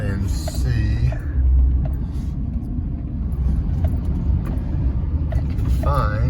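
A pickup truck towing a trailer rolls through a residential neighborhood, its steady low engine rumble and road noise continuous throughout, with occasional faint voices over the drive.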